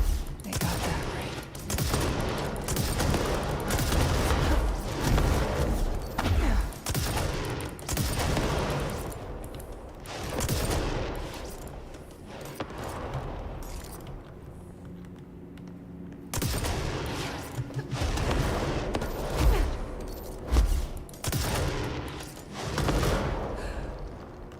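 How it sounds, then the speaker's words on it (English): Rocket launcher fire and explosions in the video game Control, a dense run of heavy blasts and gunfire-like bursts with a quieter lull midway before the booming resumes. "Love the rocket launcher."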